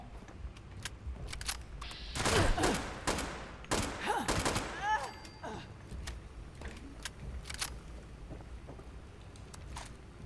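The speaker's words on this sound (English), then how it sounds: "It's a combat rifle." Combat rifle fire in a video game, a burst of rapid shots with sharp cracks and ringing tails, then scattered single shots amid background game noise.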